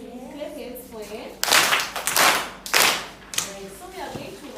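A school class claps hands in a classroom, several loud bursts of applause-like clapping between a teacher's speech.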